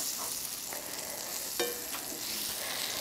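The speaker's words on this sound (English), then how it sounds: "So we're going to melt this butter until it's almost completely melted" Butter melting in a pan before sugar is added, a faint steady sizzle with a couple of small clicks from a utensil, no voices.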